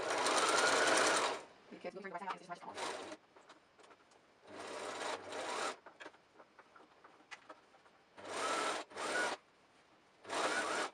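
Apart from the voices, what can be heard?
sewing machine stitching a zipper pouch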